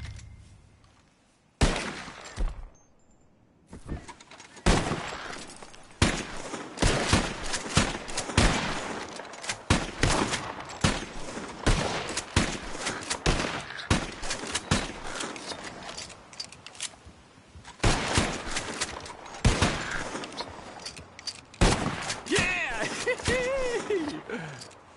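Bursts of gunfire in the video game Red Dead Redemption 2 during a shooting challenge, with sharp repeated shots in irregular clusters over a game soundtrack and mechanical clicks.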